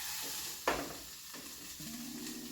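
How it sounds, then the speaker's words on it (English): Peppers and onions frying in a pan, a soft steady sizzle close by with a sharp clatter of utensil against the pan partway through and a faint low hum near the end. "Sizzling."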